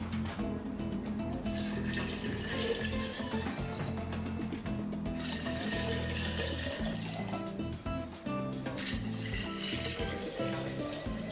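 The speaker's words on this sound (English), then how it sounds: "And now we just top it off with water." Water pours from a tap into a pot that holds piloncillo for tepache, a steady, continuous splashing and filling sound running unbroken through the whole stretch at moderate loudness.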